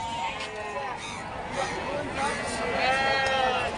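Several sheep bleat repeatedly, close by, their wavering cries overlapping amid a busy crowd murmur at a livestock market in Chakan, Maharashtra.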